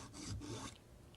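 A synthetic diamond file rasps across a chainsaw tooth in a couple of quick, gritty strokes, up close and fairly quiet, with no voices.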